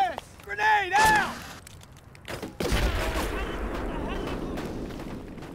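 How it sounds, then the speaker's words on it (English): A grenade launches from an M203 in the Full Spectrum Warrior military game, a sharp thump that opens into a loud, rolling boom with sustained rumble, preceded by brief shouted voices and a whistling sweep. "Target front, M203, do it! Yes! Grenade out!"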